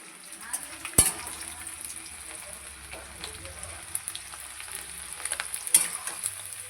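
Onions fry in a pan with chillies for a goat meat curry, a soft steady sizzle broken by a few sharp clinks and spoon scrapes against the metal, close by and with no talking.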